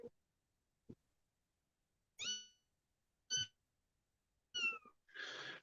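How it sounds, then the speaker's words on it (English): A small kitten gives a series of short, quiet meows spaced out over several seconds, with faint brief sounds in the gaps and no talking. "Yeah, little kitten we got."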